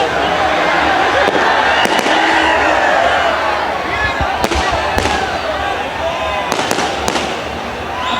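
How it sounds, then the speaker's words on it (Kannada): Firecrackers go off at the Karaga festival, with sharp, irregular cracks over a constant roar of crowd noise and amplified talk. "ಈ ಪಟಾಕಿ ನನಗೆ ಬೇಕಾಗಿಲ್ಲ"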